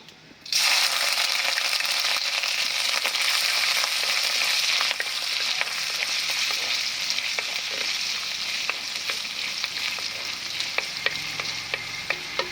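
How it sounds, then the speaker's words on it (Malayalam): Crushed garlic and ginger hit hot oil in a pan after fenugreek seeds, bursting into a loud, steady sizzle that carries on throughout with small crackles and no talking. "വെളുത്തുള്ളി ഇഞ്ചിയും കൂടെ ചതച്ച് വെച്ചിരിക്കുന്നത് അങ്ങോട്ട് ഇട്ട് കൊടുക്കാം"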